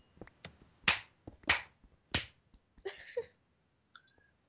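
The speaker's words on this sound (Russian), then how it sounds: "Хлопает тут и хлопает." A few loud, close hand claps spaced unevenly with softer taps between them, then a short rustling burst and a faint tone, in a home setting during a Minecraft survival game, with no one speaking.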